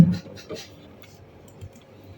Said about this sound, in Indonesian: Selanjutnya kita menambahkan dengan mengetik mkdir.